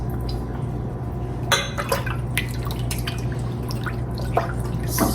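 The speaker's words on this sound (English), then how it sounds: "And to this, I'm gonna add 2 tablespoons of lemon juice." Lemon juice trickles into a pot of corn cob jelly, with small drips and splashes over a steady low hum.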